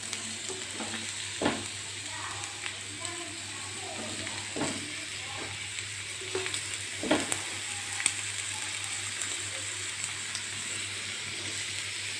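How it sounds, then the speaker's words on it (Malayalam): Beetroot pieces fry in hot sunflower oil in a kadai with a soft, continuous sizzle, broken by a few sharp clinks and scrapes of stirring, with no talking. "പിന്നെ ഒരു കടായി വെച്ച് ഇത് പൊരിച്ചെടുക്കാനായിട്ട് സൺഫ്ലവർ ആണ് ഒഴിച്ചു കൊടുത്തന്നെ."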